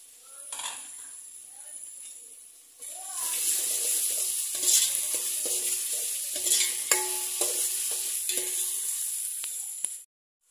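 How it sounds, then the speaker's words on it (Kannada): Green chillies dropped into a hot pan set off a loud, close sizzle that suddenly swells after a quiet start and keeps crackling steadily, with light stirring, before cutting off. "ಮೆಣಸಿನ್ಕಾಯಿ ಹಾಕ್ತಾ ಇದ್ದೀನಿ ಇವಾಗ."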